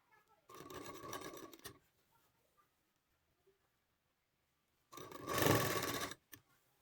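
A sewing machine stitches a neckline band onto a garment in two close, steady bursts, the second louder and longer, separated by a quiet pause.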